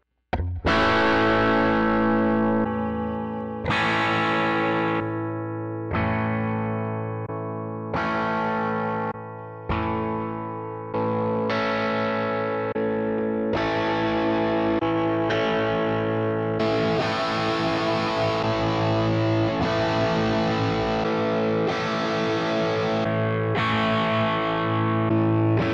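An electric guitar runs through a Fractal FM9 and steps through distorted and effected presets, with chords ringing and sustaining as each new tone takes over without gaps between the switches.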